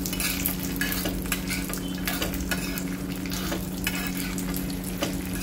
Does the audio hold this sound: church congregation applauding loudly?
no